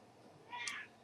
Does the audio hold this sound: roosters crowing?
no